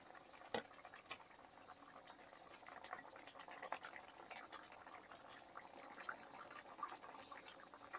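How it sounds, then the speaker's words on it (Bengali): Rui fish kalia curry gravy thinned with hot water simmers in a pan with a faint, soft bubbling broken by occasional small pops, quiet and close, with no voices. "দেখুন বন্ধুরা, তরকারির ঝোল ফুটতে শুরু করে দিয়েছে।"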